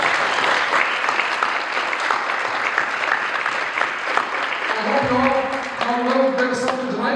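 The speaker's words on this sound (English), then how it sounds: "So let's give them all a big round of applause." Sustained applause from a large audience at a legislative candidate forum, loud and continuous, with a voice starting to speak over the clapping near the end.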